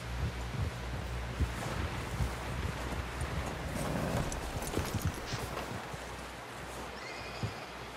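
A horse's hooves clip-clop steadily in the video game Red Dead Redemption 2, set against a constant wash of wind and ambient outdoor noise, the hoofbeats soft and somewhat buried.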